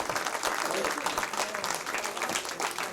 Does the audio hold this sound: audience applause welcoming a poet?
yes